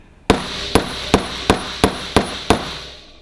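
Seven sharp metallic hammer blows strike an old metal-edged oil seal into the rear axle of a 1971 VW Beetle 1302, landing at a steady pace, close and loud, each leaving a short ringing decay.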